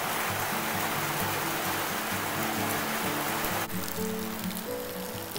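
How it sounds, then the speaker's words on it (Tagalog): Rain pours steadily at a gas station, a dense hiss of drops hitting surfaces with a low rumbling hum beneath, constant and close throughout. "Yan kasi umuulan kasi eh."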